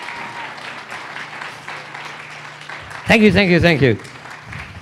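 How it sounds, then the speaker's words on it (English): Audience applause at a fan convention interview session, a loud burst of clapping swelling up near the end over low crowd murmur, with a brief spoken thanks just before. "let's have that applause back and a little bigger"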